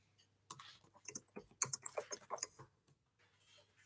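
Rapid keyboard typing, a burst of close, crisp key clicks in an uneven rhythm lasting a couple of seconds, then stopping.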